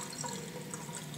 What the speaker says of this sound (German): Und dann tue ich ein bisschen Wasser über den Bauch drüber, dass der ein bisschen warm wird.